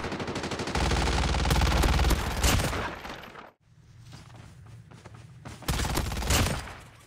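Rapid automatic fire from a Fennec SMG in the video game COD Mobile, loud dense bursts interrupted by a brief silent gap midway, then resuming.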